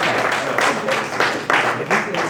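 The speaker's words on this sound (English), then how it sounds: "We give you a clap." Brief applause from an audience at a logistics talk, a steady wash of clapping lasting a couple of seconds with some vocal murmur mixed in.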